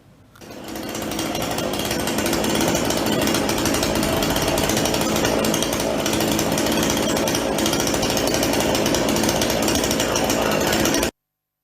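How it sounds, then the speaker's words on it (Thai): A loud, harsh chainsaw engine roars continuously and close by, a steady buzzing drone without pause until it cuts off at the end. "ถือเลื่อยไฟฟ้า แล้วก็ยังติดเครื่องยนต์ตลอดเวลานะครับ"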